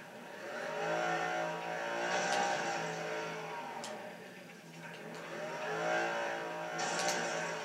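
In the racing video game Flatout, a car with a small muffler revs hard during an attempted burnout. The engine note swells and dips in repeated waves of revving, moderately loud, with no voices.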